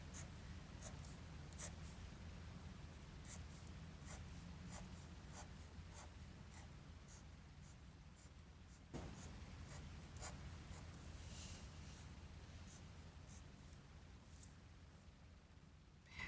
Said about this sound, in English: I'm going to draw a couple lines.